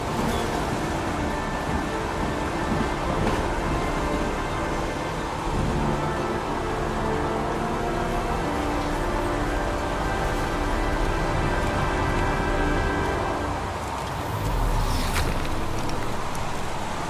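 Rain in the video game Heavy Rain falls as a dense, steady hiss that stays constant and fairly loud throughout, with no voices.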